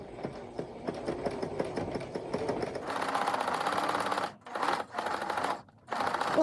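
A sewing machine stitches quilt fabric onto a background layer for a quilted skirt, running in rapid rhythmic bursts that pick up speed, then stopping and starting in a few short runs.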